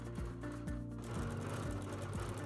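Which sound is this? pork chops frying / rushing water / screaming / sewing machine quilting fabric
sewing machine quilting fabric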